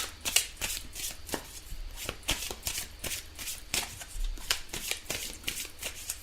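Tarot cards shuffled close up by hand, a steady run of crisp riffling flutters and soft slaps repeating in quick rhythm with no talk over them.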